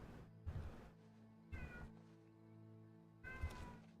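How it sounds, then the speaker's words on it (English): A male cat yowls loudly three times in long, drawn-out meows spaced about a second apart, close by, over a low steady background hum. "I'm sure y'all can hear my cat doing his, daily yell session."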